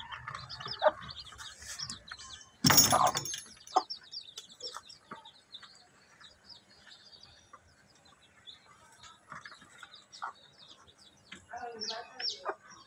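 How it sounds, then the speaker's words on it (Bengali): Hens and nearly twenty chicks in a simple backyard coop, clucking and peeping in scattered bursts close by, with one loud flurry early on and lighter chirps throughout. "2টা মুরগি থেকে 19টা বাচ্চা আছে।"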